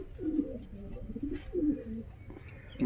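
Dubai teddy pigeons coo softly in repeated low, rolling phrases, several calls in a row at close range, with faint background noise and no talk.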